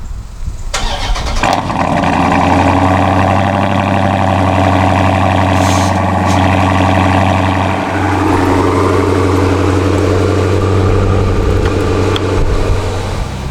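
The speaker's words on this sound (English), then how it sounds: "let's do a quick cold start" A Hemi truck engine cold-starts, cranking and catching, then settles into a loud, steady low rumble through uneven exhaust pipes that runs on without a break.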